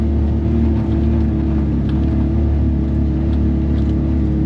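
A Can-Am Defender HD 11 side-by-side engine drones steadily in low gear at around 4,300 RPM, crawling over rough ground, a loud continuous close rumble and whir.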